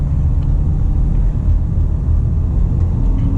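A steady, loud engine drone with low rumble from inside a moving Hyundai Santa Fe 2.2L diesel in second gear, constant and unbroken throughout.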